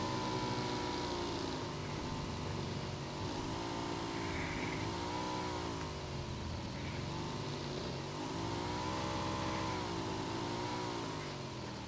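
A motorcycle engine in the battle royale game PUBG drones steadily and evenly at a quiet level, its pitch wavering slightly as the bike rides along, with a little faint talk now and then.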